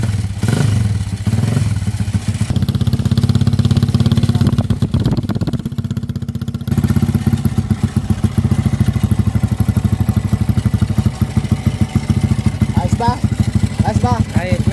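A Kawasaki Z200 motorcycle engine runs steadily after being started, a loud, close, even idle with a low rumble throughout and some clatter, and people talk over it.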